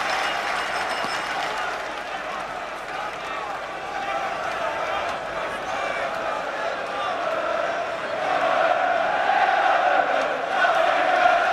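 A huge stadium crowd of nearly 77,000 at a Euro 96 football match between England and the Netherlands roars steadily throughout, a dense continuous wall of cheering and chanting that swells louder toward the end.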